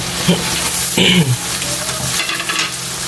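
Shrimp drop into a hot pan of cream and butter for a seafood dish, and a burst of sizzling and stirring rises over steady frying noise, close and fairly loud.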